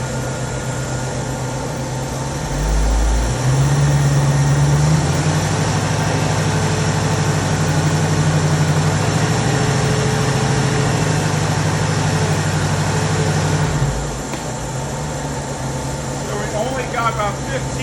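A 1973 Ford Mustang convertible engine idles steadily, then its revs rise around three seconds in and hold at a higher, louder drone for about ten seconds before dropping back to idle.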